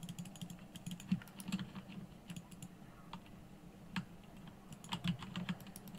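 Rapid, nervous clicking of a computer mouse and keyboard during a dungeon boss fight in a game: dense, irregular clacks and taps, close and fairly quiet, with no talking.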